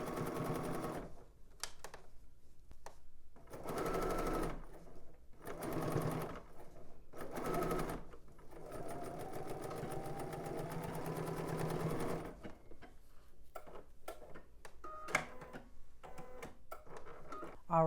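A sewing machine runs in bursts, stitching the back seam of a tank dress and stopping between runs, with a longer steady stretch of close, loud mechanical whirring and clicking before shorter intermittent bursts.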